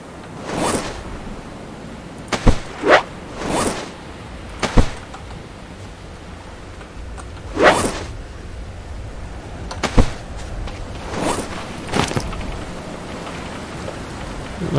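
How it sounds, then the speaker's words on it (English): Storm sounds in the survival game Stranded Deep, a steady wash of rain with repeated loud gusting whooshes and sharp bursts rising and falling over about fifteen seconds. "storm is coming. I'm hearing that."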